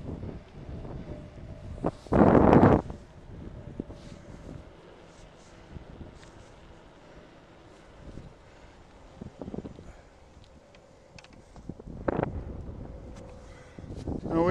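Wind on a windy spring day buffets the microphone while a cyclist rides past an American flag, a steady rushing bed broken by a few sharp loud gusts.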